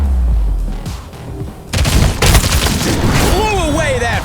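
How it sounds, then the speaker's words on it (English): Punchy gunshots and impact hits from the video game Showgunners, a loud burst of dense, booming gunfire that erupts after a quieter lull and keeps going with rapid shots and sweeping synth tones. "Every shot and every hit packs such a punch"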